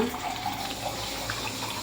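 Tap water runs steadily into a kitchen sink while bolognese sauce is being cooked for spaghetti. The flow is a continuous mid-level splash with no clear break. There is no talk over it.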